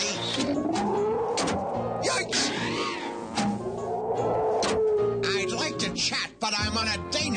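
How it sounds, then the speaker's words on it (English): A cartoonish black panther cat from Inspector Gadget yowls and meows in long, rising and falling wails, loud and close, with some clattering effects between cries. "Nice kitty."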